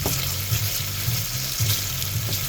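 Otafuku yaki udon noodles stir-fry in a pan with a steady, close sizzle and crackle, while a low hum runs underneath and a utensil knocks now and then.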